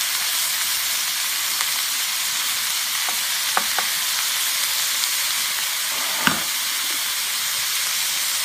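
Half a teaspoon of ginger and garlic sizzles in the middle of a hot pan for an orange beef stir fry, a loud steady hiss with a few sharp pops and clicks, no voices.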